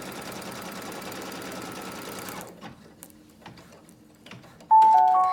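An embroidery machine stitches a zipper bag design with a dense, steady mechanical rattle for about two and a half seconds, then stops, leaving faint handling clicks and a brief electronic beep near the end.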